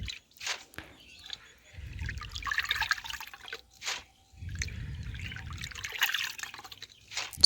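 Water draining and trickling as soaked puffed-rice grains are strained by hand, coming in two bursts of splashing and dripping, fairly close and moderately loud, with quiet gaps between.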